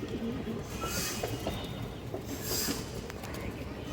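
A large fawn-coloured female pigeon and others coo softly in a low, continuous murmur, mixed with steady rumbling background noise and a couple of brief bright hissing bursts.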